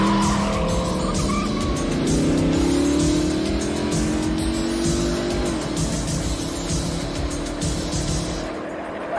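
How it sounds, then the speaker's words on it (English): Tires squeal in long sliding streaks as cars race through a movie chase scene involving a Corvette, engines roaring loudly and continuously before the noise eases off at the end. "much of the end of this movie is dominated by an extremely long car chase sequence that at one point involves Christian Slater grabbing onto a Corvette"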